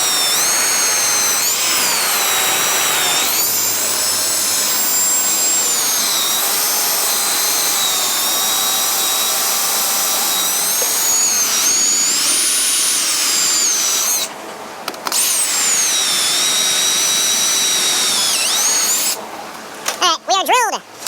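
Power drill boring out rivets, a loud steady high whine that runs almost continuously with brief pitch dips and short pauses near the end, people talking faintly underneath.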